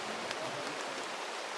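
Rain falls as a steady, even hiss of drops on surfaces, with no break across the short stretch and no voices.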